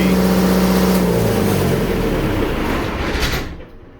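A loud Onan generator engine runs steadily with no load, then its hum drops and winds down, fading out to silence at the end.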